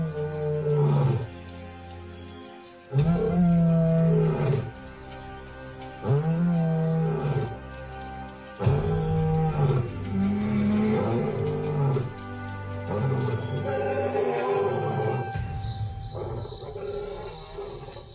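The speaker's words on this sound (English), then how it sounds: "Their courtship continues as the pair roars in chorus to strengthen their social bond." A pair of lions roar together in chorus in the wild, long deep bellowing calls repeating in strong bursts with short pauses, then trailing into lower grunting, close and loud.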